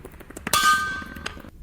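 Glass jars clang together with a bright ringing strike that sustains and fades, surrounded by a few lighter clinks and knocks at moderate volume.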